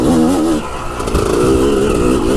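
A trail motorcycle revs hard and close while shifting into second gear on a dirt path, with the engine note dropping briefly then climbing again, loud and continuous.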